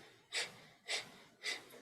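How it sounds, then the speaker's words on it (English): Yoga breath of fire: three sharp, forceful breaths through the nose, evenly spaced about half a second apart, close and fairly quiet, with no talking. "We are going to do breath of fire."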